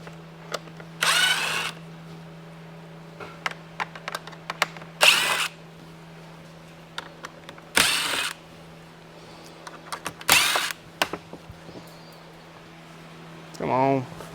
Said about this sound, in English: there are 6 screws right here on the bottom that you'll need a Phillips for.